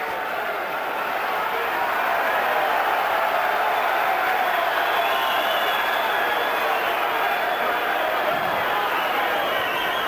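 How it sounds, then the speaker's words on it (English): A boxing crowd at a heavyweight bout roars wildly after a flurry of punches, a broad, steady wall of cheering that swells and holds throughout, with a commentator's voice running under it. "that flurry had the crowd going wild"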